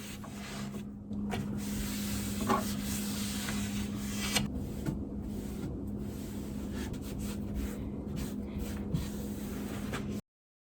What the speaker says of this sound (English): I just went ahead and scuff sanded by hand the whole piece.